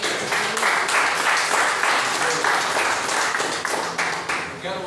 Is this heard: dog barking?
no